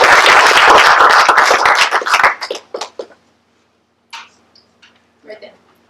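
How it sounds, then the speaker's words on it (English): A small audience gives a brief round of applause, dense clapping for about two seconds that thins into scattered claps and falls silent. "please introduce a nice little round of applause for Katie Frederick"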